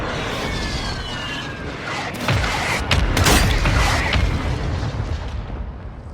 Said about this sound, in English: Mortar support incoming! Copy. Mortar strike inbound now.